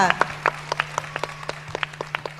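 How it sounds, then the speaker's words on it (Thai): Scattered clapping from a small audience for the guests, distinct individual claps at an uneven rhythm, close and fairly loud, over a steady low hum. "ขอเสียงปรบมือให้กับแขกรับเชิญของพวกเราทุกทุกคนด้วยค่ะ"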